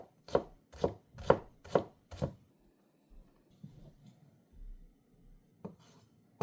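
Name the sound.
knife cutting on a wooden board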